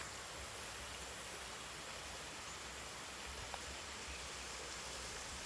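Huai Chan waterfall in Khun Han district, Sisaket, pours steadily, a constant broad rushing roar of falling water with no pauses and no voices.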